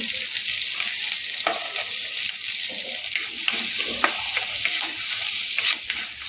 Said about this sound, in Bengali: রসুন আর কাঁচা লঙ্কাটাকে একটুখানি হালকা একটু নেড়ে নেবে তোমরা